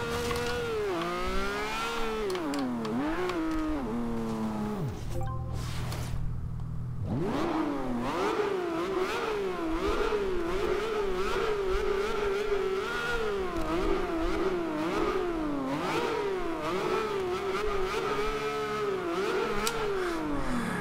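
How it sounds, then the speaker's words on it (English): A 2013 Lamborghini Veneno's high-revving engine in Forza Horizon 2 screams continuously with echoing reverb under a bridge, dropping briefly to a low idle before roaring back up through repeated rising and falling revs. "let's go back under one of those bridges and let's see what this car sounds like with the echo"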